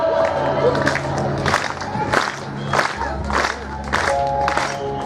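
A crowd claps and cheers in bursts over music and shouting voices, lively and fairly loud throughout.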